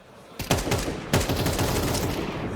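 Rifle fire in the shooter game CS2: a couple of sharp shots, then sustained rapid automatic bursts ringing loud and close for a few seconds, with no talking over them.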